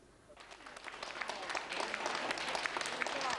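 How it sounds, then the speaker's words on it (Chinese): Crowd at a World Expo pavilion breaks into applause that swells from scattered claps into a dense, sustained ovation, growing louder toward the end. "胡锦涛和大家一起鼓掌"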